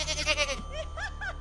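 Goats in a pen bleat in repeated wavering calls that sound frightened, fairly close and loud, against a steady low hum.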